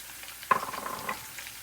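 Long-sliced onions hit hot oil with garlic and ginger for a soybean chilli dish, giving a sudden close sizzle that flares and then settles into a brief crackling fry.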